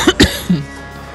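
Two sharp, close coughs come in quick succession, then a softer rough throat sound, all loud and without talk.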